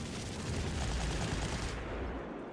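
Gunfire and explosion effects from the World War II strategy game Panzer Corps Gold, a dense rolling burst of shots and rumbling blasts that holds loud for about two seconds and then thins out abruptly.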